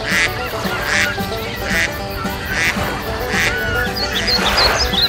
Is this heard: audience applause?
no